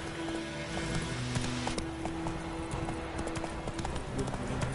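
Roach, a horse in The Witcher 3, gallops with a quick, steady patter of hoofbeats under ambient game sound and faint background music.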